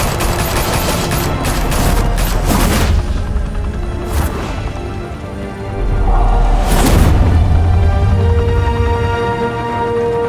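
Gunfire breaks out in the Batman Telltale game during a shootout at a mafia hangout, with a few sharp bursts over a heavy rumbling score and booming impacts, loud and close.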